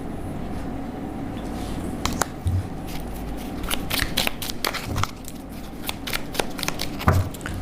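Tarot cards being shuffled, a steady papery riffling and soft slapping of cards throughout, with sharper snaps at intervals, heard up close and alone.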